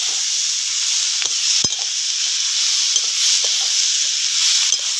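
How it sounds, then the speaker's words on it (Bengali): Bottle gourd stems with shrimp are stir-frying in a pan: a continuous close sizzle and hiss, broken by a few sharp clinks and scrapes of a spatula against the pan. No one speaks. "এবার লাউ ডাঁটা ভালো করে কষি নিবা।"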